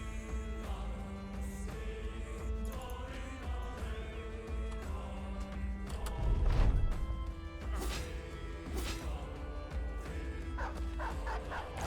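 Dogs in the medieval combat game Battle Brothers bark and yip in repeated bursts amid clashing battle sounds, with game music playing throughout and a louder crash near the middle.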